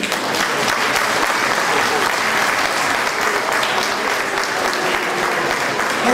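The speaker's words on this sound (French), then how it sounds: "je vous donne un applaudissement, s'il vous plaît." Steady, dense audience applause fills a hall at a French-speaking ceremony honoring officers, loud and continuous from start to finish with no break.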